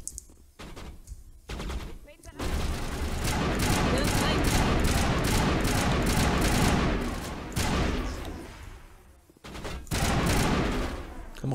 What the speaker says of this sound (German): mit unserer neuen Feuerkraft, diesem Maschinengewehr